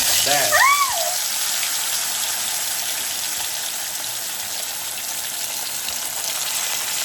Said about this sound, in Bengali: এরপর ভাজবো মাছ আস্তে করে